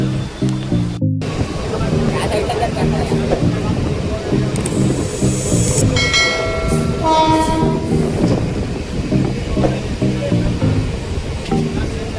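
A Mumbai local train rumbles along steadily with clattering rail noise and a loud horn blast midway, while people talk over the din.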